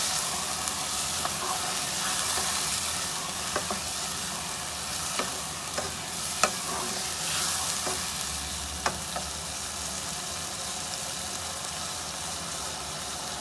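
Red chili, turmeric and salt frying with beef for karahi gosht, a dense, continuous sizzle with spatula stirring and occasional sharp scrapes and taps against the pan, close and steady with no talk.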